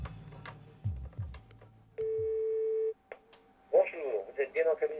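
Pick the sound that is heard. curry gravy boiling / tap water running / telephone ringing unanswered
telephone ringing unanswered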